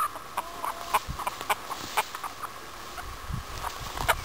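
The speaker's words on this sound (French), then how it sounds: "ce sont des poules nègres soie" Silkie hens on a pheasant farm clucking softly and repeatedly close by, short scattered clucks over light background rustling.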